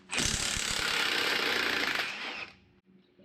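A 1/2 inch high-torque impact wrench buzzes loudly and continuously for about two seconds, spinning rusty exhaust manifold bolts off a BMW E90 N52, then winds down to near silence.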